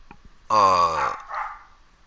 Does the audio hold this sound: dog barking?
yes